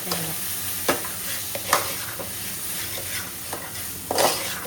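Masala paste for an Agri-style egg-stuffed crab curry sizzles in a pan while being stirred, with a steady frying hiss broken by periodic spoon scrapes and knocks.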